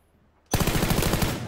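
Video game gunfire from a squad battle: silence, then at mid-clip a sudden loud burst of rapid automatic shots that keeps rattling to the end, close and with no voices over it.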